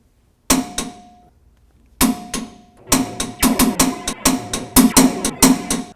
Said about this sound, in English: We're going to torque it down to 60 foot-pounds.